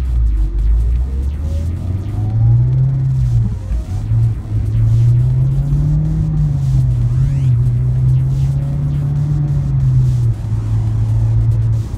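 A Mitsubishi Evo X engine rumbles close up with a deep, steady drone that rises and falls gently through mild revs and briefly dips midway, loud and with no talking.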